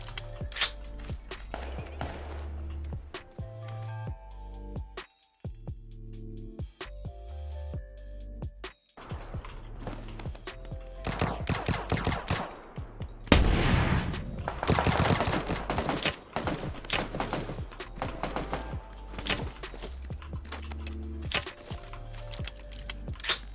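Gunfire in the video game PUBG, with sharp shots in short bursts and a denser volley near the middle, all mixed with steady keyboard clatter.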